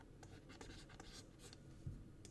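Soft pen or pencil strokes drawing a picture on paper: a faint, continuous scratching with short repeated strokes, quiet and close, with no talking.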